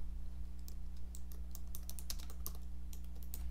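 Steady computer keyboard typing during QuickBooks data entry, a quick run of light key clicks followed by a tab key press, close and clear over a constant electrical hum.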